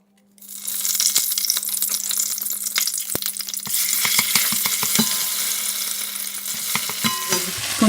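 Peanut sauce hits hot oil and sizzles loudly, then keeps frying and bubbling steadily, with occasional clinks of stirring.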